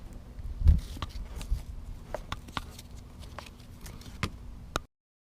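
Pull-strap buckles on a Roofnest Eagle rooftop tent are undone outdoors, giving a series of small sharp clicks and snaps with light rustling of straps and fabric between them.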